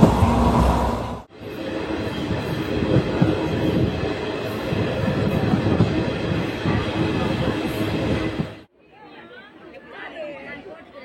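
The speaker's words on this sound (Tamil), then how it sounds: "திண்டுக்கல்லேருந்து ட்ரெயின் இன்னும் நிறைய கூட்டத்தோடு கிளம்புது." An unreserved-coach passenger train leaving Dindigul rumbles along steadily with a dense crowd chattering inside, then the noise cuts off, leaving quieter talk.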